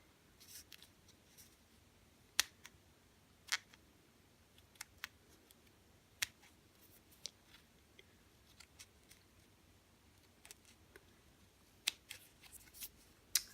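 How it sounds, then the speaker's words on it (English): Small scissors trim a stiff material softly and sporadically, faint light clicks scattered irregularly over a quiet background, close by. "Let me use my small scissors. I'm going to just trim this down just a little."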